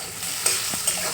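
Cauliflower and mushroom curry frying and being stirred in a pan, a steady soft sizzle with a couple of brief scraping clicks from the spoon, fairly quiet and close with no voices.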